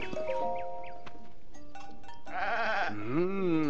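White goats bleat several times with wavering, nasal cries, the last call long and loud, over a faint background of game tones in The Legend of Zelda: Tears of the Kingdom.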